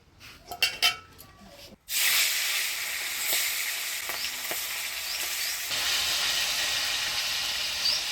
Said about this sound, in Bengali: এবার কড়াই বসাই দিয়েছি, মাছটা ভাজা বসাই দিই।